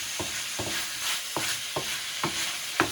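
A roast cut into pieces sizzles in a stir-fry pan for an Americanized bami goreng while a utensil scrapes and stirs it in about six regular strokes, close and steady with no voices.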